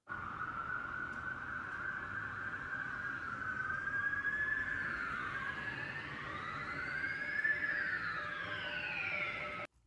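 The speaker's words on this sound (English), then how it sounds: "So we've got a police siren that goes up and down." A police siren sample in a music track wails up and down in slow, smooth sweeps, steady and fairly quiet, with no voices.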